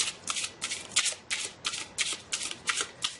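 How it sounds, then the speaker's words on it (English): Tarot cards shuffled by hand, about nine crisp riffling bursts in a steady rhythm, close and clear with no talking. "Just wanted to give this a good shuffle."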